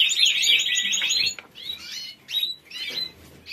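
Small birds chirping and tweeting in a celery garden, with a dense, rapid burst of high calls at first, then scattered shorter chirps at close to moderate distance.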